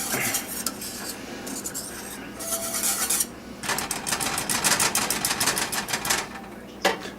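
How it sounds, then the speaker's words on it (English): A spoon clatters and scrapes against a pot of simmering habanero jam, with quick repeated metallic clinks and bursts of stirring, loud and close, with no talking. "I stirred it and let it just continue to simmer for the rest of the time here."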